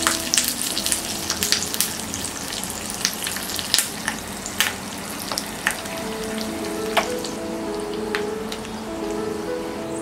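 Dry red chillies and curry leaves crackle and sizzle in hot oil for a coconut chutney tempering, a steady dense frying hiss with sharp popping bursts throughout, close and fairly loud, no voices.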